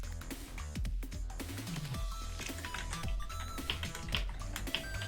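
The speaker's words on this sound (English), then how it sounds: "I don't know why I'm typing" Steady clattering of a computer keyboard during a gaming stream, close and fairly quiet, with quick irregular keystrokes running throughout alongside faint background music.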